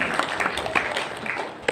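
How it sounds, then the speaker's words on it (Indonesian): Brief applause from an audience at a Quran memorization graduation talk show, a short burst of mixed clapping with a couple of sharper claps standing out. "tepuk tangan untuk kita semua"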